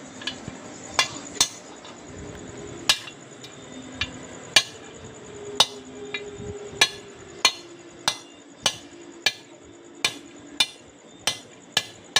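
Sharp metallic hammer blows ring out while driving a bearing into place on a Honda Tena 110 motorcycle engine, irregular at first, then settling into a steady rhythm of evenly spaced strikes, close and loud.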